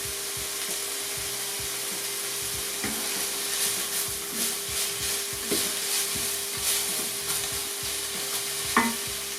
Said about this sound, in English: we'll put that all in and give it a stir